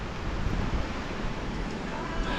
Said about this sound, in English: It is extremely windy right now, guys. So if I got wind noise,